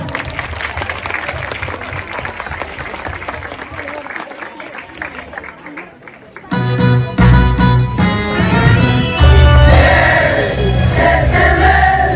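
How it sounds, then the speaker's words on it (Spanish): Audience applause at a school Christmas festival, a dense steady wash of clapping that swells sharply halfway through as music begins under it. "Un aplauso, por favor."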